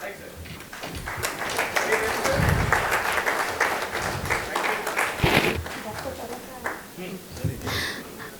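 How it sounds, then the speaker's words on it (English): Audience applause at the India-Africa Seed Summit 2025 rises and falls as guests are introduced, with scattered claps and a speaker's voice over the crowd. "can we please keep clapping?"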